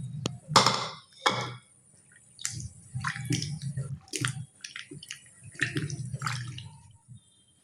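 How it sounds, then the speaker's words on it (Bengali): Potatoes being rinsed two or three times in water for a vegetarian potato curry, with irregular splashing, sloshing and dripping bursts close by, separated by short pauses. "এবার দিয়ে ভালো করে 2 থেকে 3 বার আলুগুলো ধুয়ে নেব।"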